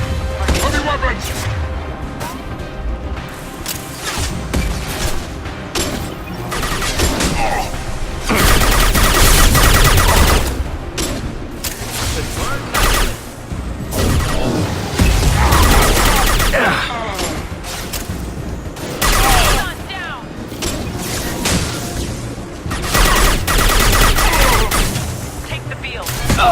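Heavy weapons fire in the Mass Effect 3 video game, dense bursts of gunfire and booming impacts rolling on under shouted voices and game dialogue, loud and close.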